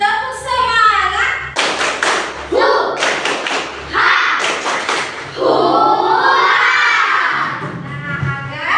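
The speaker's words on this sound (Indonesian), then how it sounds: "Tepuk semangat." A school class performs a rhythmic clapping chant together, children shouting words in unison between bursts of sharp clapping and thumps, loud and close, with the teacher's voice leading.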